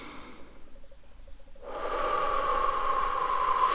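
A person takes heavy breaths during acupuncture, with quiet sniffing breaths at first, then a long, loud, hissing exhale up close.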